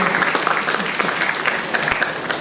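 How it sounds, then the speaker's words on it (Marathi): An audience at a goal-setting and motivation session at a Rotary English-medium school claps loudly, a dense, continuous burst of applause filling the room at close range. "वाजवा टाळ्या मोदींसाठी,"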